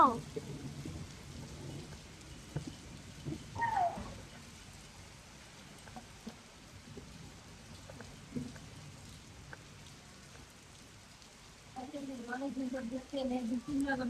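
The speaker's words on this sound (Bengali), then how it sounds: "এই যে উপরে থেকে বৃষ্টি পড়ে যায়" Steady rain falls outside a balcony on a rainy evening in Italy, a soft, even wash of drops that swells a little louder near the end, with a voice speaking briefly over it.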